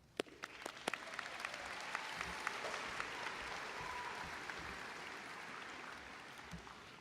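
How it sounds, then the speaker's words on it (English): Graduation audience applause at a Goshen High School ceremony, a few sharp single claps at first, then swelling into sustained, even clapping from a large crowd, heard from a distance in a big hall. "I would like to have an applause for all of you."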